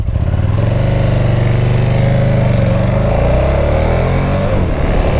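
A motorcycle rides fast along a twisty street, shifting up through second and third gear, then rolling off and braking. A loud, steady engine drone runs throughout, its pitch climbing and dipping with each gear change.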